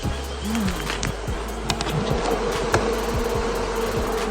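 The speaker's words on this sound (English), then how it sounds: "That's a lot of bees." A dense, steady buzz of a honeybee swarm fills the whole clip, close and loud, with individual bees zipping past.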